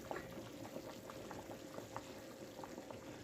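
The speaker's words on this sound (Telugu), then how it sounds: "పులుసు మరుగుతుంది కదా" Fish curry (pulusu) bubbling in a pot, a steady low simmer with soft popping bubbles at a fairly even rhythm, quiet and close with no voices.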